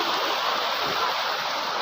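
Steady broadband rush of river water flowing, a constant close wash of sound with no breaks and no talking.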